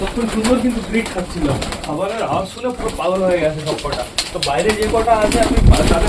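Pet pigeons, some of them sick, coo repeatedly at close range in a loft, their soft throaty calls running steadily under a person talking throughout.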